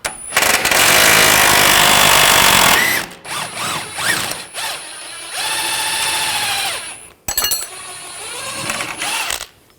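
A power tool with a 21mm socket spins off a nut and bolt on a 2007-2013 BMW 328i rear suspension, loud sustained whirring in several bursts with pitch rising and falling, separated by brief pauses and ratcheting clicks.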